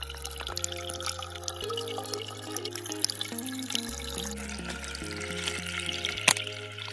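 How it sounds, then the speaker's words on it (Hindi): Water from the Haldi Jharna waterfall in Simultala, Bihar, trickles and splashes steadily nearby, a continuous babbling flow with small drips, alongside a low background tone. "तो देख सकते हैं यहाँ पे झरना से पानी आ रहा है"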